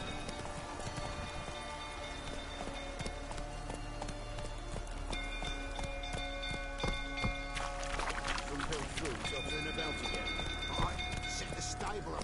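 Roach, a horse in the video game The Witcher 3: Wild Hunt, gallops with steady clip-clop hoofbeats amid a busy game mix of crackling fire and music, with voices talking over it throughout.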